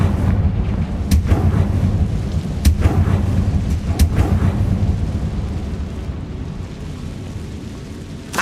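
Fire-blast spell explosions in the Hogwarts Legacy video game, heard as a dense rumbling roar with several sharp cracking bursts early on, settling into a continuous low crackle and rumble.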